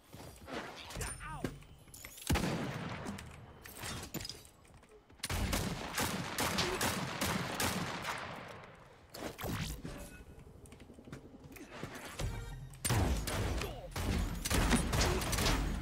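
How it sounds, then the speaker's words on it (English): Hand cannon gunfire in a video game comes as repeated sharp bursts of shots, clustered and then separated by short pauses. It is fairly close and loud, and someone talks over it at times. "You're shooting a hand cannon at me, sir?"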